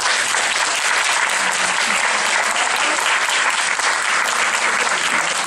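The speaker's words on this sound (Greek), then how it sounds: "Ένα μεγάλο, μεγάλο χειροκρότημα στην κυρία Κόλλη." An audience at a first-grade school performance gives a teacher loud, dense, continuous applause that holds steady without a break.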